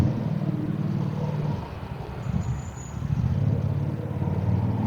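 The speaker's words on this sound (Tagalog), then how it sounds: "Naipit kami sa traffic." Cars idle and creep along in a long road traffic jam near Cubao, a steady low engine rumble and tyre noise that swells slightly midway, with no voices over it.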